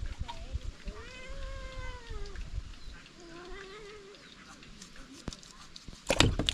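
A cat meows several times in drawn-out, wavering cries with gaps between them, fairly near but soft, and ends with a louder sudden clatter.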